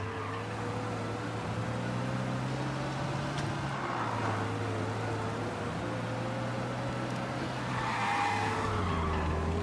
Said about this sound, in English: We lose them by driving real fast and getting clear of them.